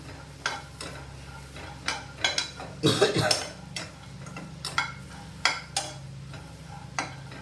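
Grated dried coconut roasts in a pan while being stirred, with repeated scraping strokes and light knocks of the spoon over a faint sizzle, the loudest burst of stirring coming midway.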